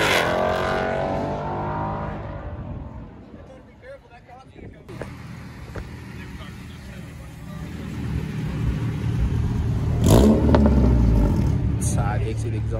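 At a cars and coffee meet, a car with side-exit exhaust passes by. A loud engine roar fades into a low idle rumble, then a sharp rev swells near the end, all under voices chatting nearby.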